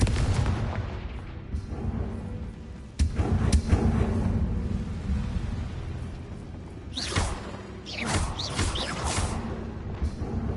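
The blasting spell Confringo explodes in a Harry Potter video game, with whooshing bursts and booming impacts. One heavy hit lands near the middle, followed by swishing spell effects and further blasts, with no speech.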